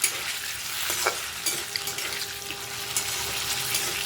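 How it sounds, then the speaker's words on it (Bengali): Paneer pieces fry in oil in a wok while being stirred, giving a steady close sizzle with occasional scraping taps and no voices. "ভালো করে নাড়াচাড়া করে করে পনিরগুলোকে ভেজে সবকটাকে তুলে নিলাম"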